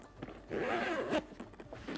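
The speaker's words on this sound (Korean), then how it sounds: "지퍼를 열어보게 되면" The zipper on a sturdy hard carrying case slides open in one smooth, close rasping pull lasting about a second, with light handling clicks around it.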